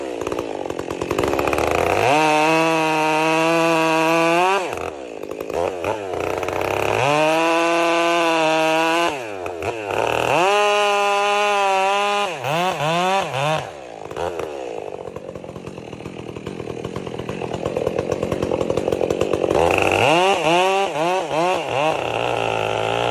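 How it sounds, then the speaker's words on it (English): A long-bladed chainsaw cuts through a thick log from an uprooted tree in a large garden, its engine revving loud and close in repeated surges that bog down under load, with idling between cuts. "The worker picked up a long-bladed chainsaw and started the machine."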